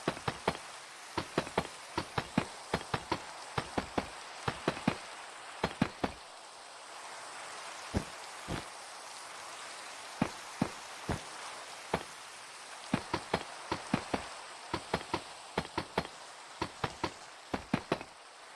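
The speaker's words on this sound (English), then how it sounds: "when it rains in game, like, that's very relaxing to me." Rainfall in the Minecraft video game, irregular crisp drop-like ticks and taps scattered over a soft hiss, sometimes in quick clusters, moderately quiet and with no voices.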